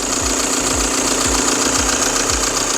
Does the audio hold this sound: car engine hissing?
yes